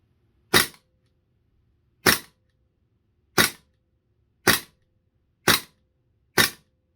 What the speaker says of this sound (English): I'm going to hold down the slide release as I'm firing it here so it'll actuate